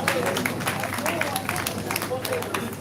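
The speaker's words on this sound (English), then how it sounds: "Let's give her a round of applause" Audience applause following a faculty ophthalmology lecture, a dense continuous wash of clapping hands filling the room, steady and fairly loud throughout with no speech on top.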